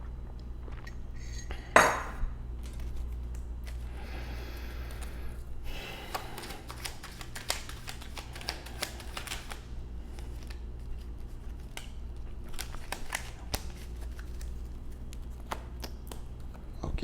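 Oracle cards being shuffled and drawn, giving soft papery riffles and scattered light taps and clicks over a steady low room hum, with one sharper snap near the start.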